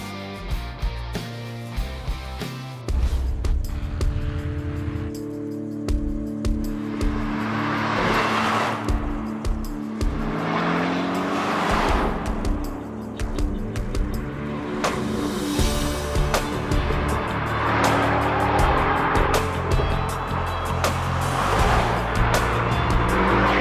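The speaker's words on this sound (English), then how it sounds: "This car finished up and took it out for a test drive." A finished custom supercar on a test drive, its engine revving and surging through repeated accelerations and passes, loud and close with rising and falling pitch sweeps and brief quieter gaps between runs.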